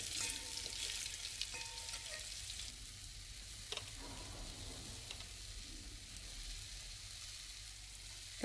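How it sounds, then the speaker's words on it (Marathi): A tempering of curry leaves and red chili powder sizzles in hot oil for a hotel-style whole masoor dal, a soft, continuous frying hiss with occasional stirring clicks, quiet and steady. "कढीपत्ता घातला आहे आणि आता लाल तिखट घालायचं आहे"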